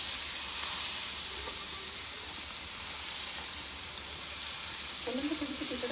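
Food sizzles and fries steadily in a pan over a wood-fired stove in a Konkan village kitchen, a continuous close hiss with a brief stir near the end.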